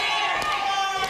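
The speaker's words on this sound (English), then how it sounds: "fans are cheering for Derek and Billy." A wrestling crowd at an NWA Mountain State show roars in a dense, sustained wall of cheering and shouting that fills the whole moment.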